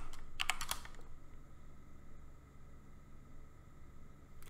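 A short burst of quick keystrokes on a computer keyboard as an SSH command is typed in a terminal, crisp clicks in the first second followed by a faint steady room hiss.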